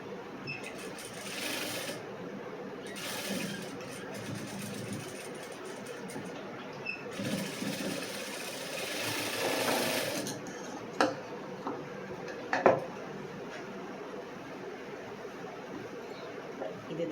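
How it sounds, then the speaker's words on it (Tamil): A sewing machine stitches a cross-cut blouse in loud, close bursts of rapid whirring, three runs separated by short pauses, followed by scattered light clicks. "இதுக்கு நீங்கள் டபுள் தையல் போட்டுருங்க."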